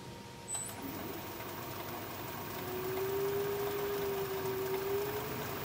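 A wood lathe spins a burl bowl at about 500 RPM while a 3/8 inch bowl gouge cuts at it. A steady mechanical hum is joined midway by a sustained tonal whine as the tool bites, heard close and moderately loud.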